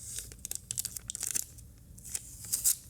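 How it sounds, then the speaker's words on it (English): Tape peeled back off a wax transfer plate, giving a quick crackling, ripping rustle of short bursts that runs nearly three seconds, close and fairly quiet, with no talking. "You're going to pull your tape back off"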